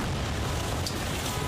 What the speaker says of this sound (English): The LAPD bomb squad truck designed to withstand such an explosion failed.